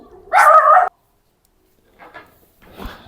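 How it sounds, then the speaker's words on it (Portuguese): A pet dog barks in a short loud burst up close, followed after a pause by a couple of fainter yips and whimpers. "meu cachorro ficou latindo"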